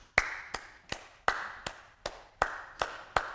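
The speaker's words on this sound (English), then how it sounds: "Bringing it all the way back to some claps." Eight crisp hand claps sound at a steady, even pace in a mother and baby yoga class, close and fairly quiet, each one sharp and separate with short pauses between.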